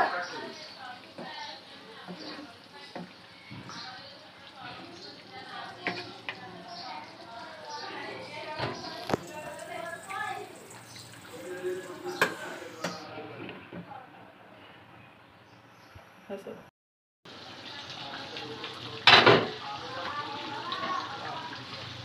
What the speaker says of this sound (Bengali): এখন আমি নেড়ে মিলিয়ে দিব